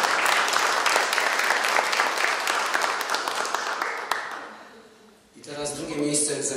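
Steady applause from an audience at an award ceremony for a new building, sustained clapping that fades out before a speaking voice takes over.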